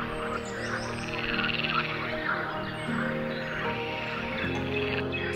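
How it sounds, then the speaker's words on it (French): Frogs croak densely at night, a continuous loud chorus of overlapping calls near and far that fills the whole stretch with no talk. "Quand je pense qu'il y a des gens qui n'arrivent pas à dormir avec les bruits de grenouilles"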